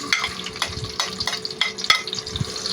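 Onions sautéing in a hot pan for a Filipino dish, a close, lively sizzle punctuated by a rhythm of spatula scrapes and metallic taps against the pan.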